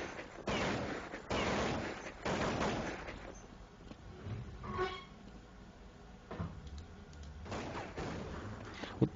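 Bursts of rifle gunfire in Counter-Strike on the Dust2 map, with clustered rapid shots recurring over several seconds, fairly loud and close with a muffled game-audio quality.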